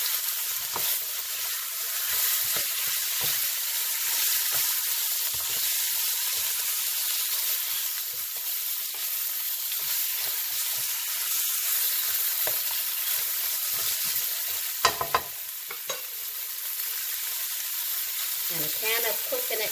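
Pieces of cut giant lobster frying in a pan for a lobster curry, with a steady close sizzle that carries through, some stirring clatter late, and a quiet voice briefly underneath.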